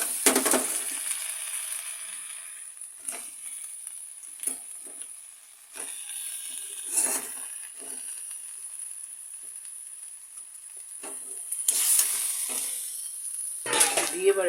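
Yogurt-marinated chicken with ginger-garlic paste, salt and turmeric drops into hot spices in a pan and fries, giving a steady close sizzle with scraping stir bursts and brief louder clatters, no talk over it.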